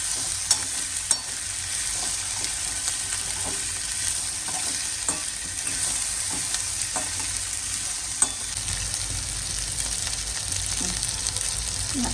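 Potato and cauliflower sabzi cooking in a pan, a bright continuous sizzle with occasional clacks and scrapes of stirring, close and fairly loud, no voices.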